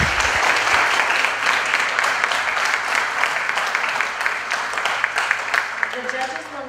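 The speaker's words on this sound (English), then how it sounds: "Give them another round of applause." Sustained applause from an audience for five Swede Day Queen contestants at a 2017 coronation pageant, dense steady clapping throughout with some voices mixed in, tapering slightly toward the end.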